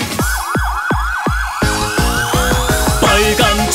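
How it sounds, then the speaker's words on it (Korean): A rapid, repeating ambulance siren yelp sweeps up and down over and over, loud and close, with a bouncy musical backing underneath in a children's song. "삐뽀삐뽀 아픈 사람 탔으니까 삐뽀삐뽀 병원으로 가야 해요"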